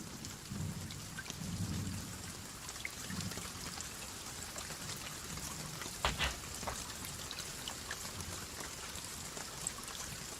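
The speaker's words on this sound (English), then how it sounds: "There's the rain. I'm getting so bloody wet." Rain patters steadily over a sailboat at sea, a broad continuous hiss with a few sharper drops and a brief louder splash or gust near the middle; low rumbling under it, no voices.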